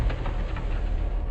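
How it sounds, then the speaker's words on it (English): Armored personnel carrier ammunition detonating in a massive explosion, a continuous heavy low rumble and roar sustained throughout with no distinct separate blasts. "The fire makes the ammunition detonate quite quickly, and then a massive explosion."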